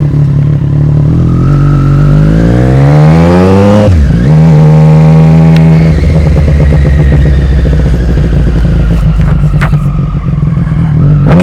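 A motorcycle being ridden, its engine droning loud and close throughout with steady rising and falling revs and a gear change partway through, plus wind rush and clatter and no talking.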